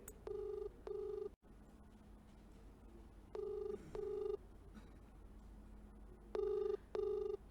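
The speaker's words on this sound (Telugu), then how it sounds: "హేమ ఫోన్ రింగ్ అవుతుంది" An actress's mobile call rings out unanswered, a ringback tone sounding in three evenly spaced double rings, clear and alone against a faint hum.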